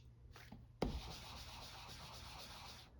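A sharp knock, then steady scratchy rubbing of sandpaper on a junk journal tag or card for a couple of seconds, close and fairly quiet.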